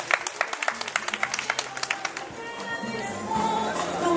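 An audience at a farmers' cooperative award ceremony claps in a brief burst of distinct hand claps, fading after about two seconds into murmuring room noise and faint voices.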